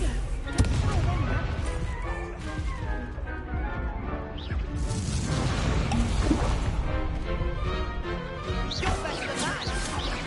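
A Confringo explosion spell is cast in the Hogwarts Legacy video game, and crashing, booming impacts ring out amid dense game effects and combat noise, with a voice talking intermittently.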